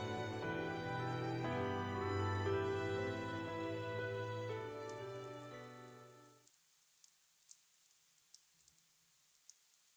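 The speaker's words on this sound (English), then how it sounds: "I wake to the sound of rain." Rain falling in the video game Fate/Stay Night Remastered, a soft steady patter mixed under swelling music for most of the stretch, then left faint and alone with scattered distinct drips once the music cuts out.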